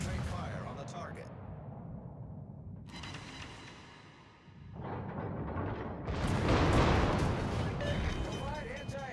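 Heavy gunfire and explosive bursts from a naval battle video game, booming in waves with a dense rumbling roar that swells loudest toward the end, under radio-style command chatter.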